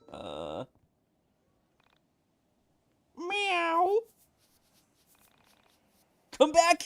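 A cartoonish cat meow sound effect from the video game YIIK: A Postmodern RPG, with three separate bursts, one at the start, a longer mid call and a sharp one at the end, separated by near silence.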